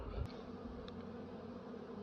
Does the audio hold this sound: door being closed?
no